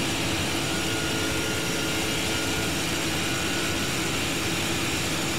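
Aircraft engines in Flight Simulator 2024 over New York City give off a loud, continuous, even roar with a broad rushing tone that never lets up over five seconds.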